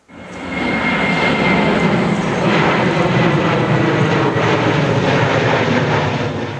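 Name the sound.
jet plane engine sound effect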